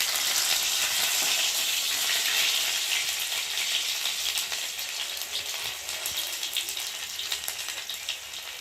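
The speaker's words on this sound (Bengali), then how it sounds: "অল্প করে কুচিয়ে রসুন দিলাম, দিয়ে একটু ভালো করে ভাজা ভাজা হয়ে যাবে।" Chopped garlic and garlic paste fry in a pan with a dense, bright, continuous sizzle and crackle that eases slightly toward the end, with no talking.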